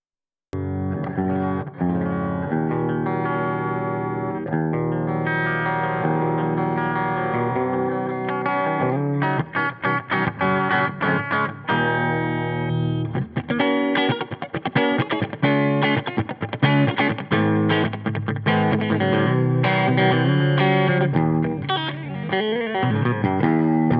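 Distorted electric guitar through a Line 6 Powercab 112 Plus with Creamback speaker emulation and reverb, roomy reverb tail, sustained chords giving way to fast choppy riffs and muted chugs, loud and continuous throughout.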